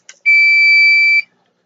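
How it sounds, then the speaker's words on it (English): A personal attack alarm shrieks once its pin is pulled: a small click, then a loud, piercing steady tone held for about a second before cutting off abruptly. "if they have the presence of mind as they're falling to pull the pin out, it makes an alarm"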